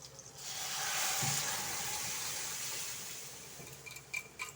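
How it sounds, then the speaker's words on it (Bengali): Boiled masoor dal is poured into a hot pan with fried aromatics and sizzles, a rising hiss of steam and frying that swells over about a second, then slowly fades with a few small pops. "এখন ডালটা ঢেলে দিব ডালটা ভাজা হয়ে গেছে এখন ডালটা ঢালবো"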